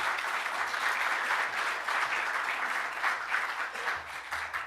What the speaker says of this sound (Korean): 환영하며 박수 한번 드리겠습니다.